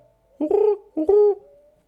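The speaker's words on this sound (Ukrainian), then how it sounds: "Голуб." Two soft, low coos from a pigeon in the video game Rusty Lake Underground Blossom, each a short rising-then-falling call, close and clear against silence.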